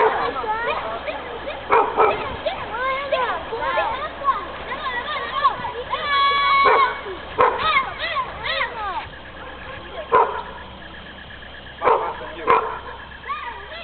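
A dog by the water yips, barks and whimpers excitedly in repeated bursts, close to the microphone, while people talk and shout over it.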